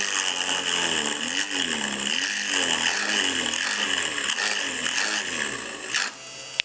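A small benchtop mini drill press whines steadily as it bores into aluminum with a 2.8 bit, its motor pitch sagging and recovering under load, then cutting out near the end.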